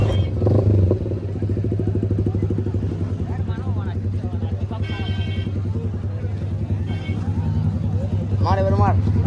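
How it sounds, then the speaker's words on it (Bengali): A Yamaha R15 V4 motorcycle fitted with a full-system aftermarket exhaust idles with a rapid, throbbing burble and picks up in short throttle blips, close and loud, while people talk over it. "আমার এই R15 ভার্সন 4টায় লাগানো আছে ফুল সিস্টেম এসি প্রজেক্ট এক্সস্ট"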